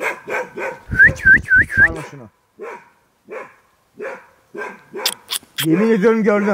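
A dog near a graveyard passage by an abandoned miner's house barks in a quick run of sharp, close calls, followed by people talking nervously over scattered sounds.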